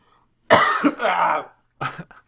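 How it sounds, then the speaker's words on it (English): A person on a podcast coughing, a couple of harsh close coughs with a throat-clearing rasp, followed after a pause by a shorter cough, loud and alone against silence. "Right, I got a cough again."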